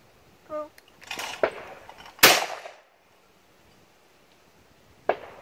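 Several gunshots ring out during intermediate fast-target shooting practice, with sharp cracks spread across a few seconds. The loudest one stands in the middle and a fainter shot comes near the end, with light talk between them.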